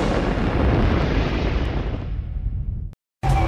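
A big cinematic explosion in a space documentary roars as a dense, loud boom that slowly decays into a rumbling tail, then cuts to brief silence before another sound starts.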